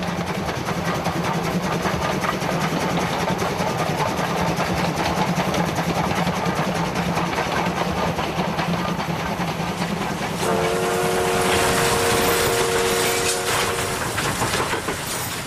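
Oigawa Railway train rolling through a valley in Japan on 1067 mm gauge track, a steady loud rumble of wheels with a sustained horn blast near the end.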